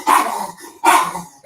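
A small dog barks twice, sharp close yips spaced about a second apart, each short and fairly loud in a quiet indoor room.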